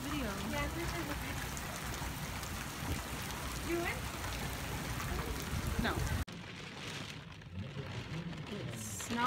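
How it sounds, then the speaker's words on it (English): Rain falls steadily at an outdoor powwow in Mandaree, a broad hiss of drops on surfaces that continues under brief talk and then quietens near the end. "It's not Mandaree without the rain."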